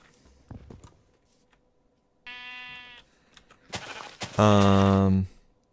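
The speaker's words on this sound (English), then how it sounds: "sheep's in the tree" Sheep bleating in Minecraft, a blocky video game world: two separate electronic bleats, the second louder and closer, amid quiet clicks and soft background sounds.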